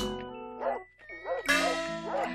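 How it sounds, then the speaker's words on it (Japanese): Dog barks serve as a sound effect in a picture-book reading of a ghost story, with several sharp, clear barks in quick succession, loud and close, set against a sustained musical tone. "どっかの小僧が犬に囲まれ泣いている"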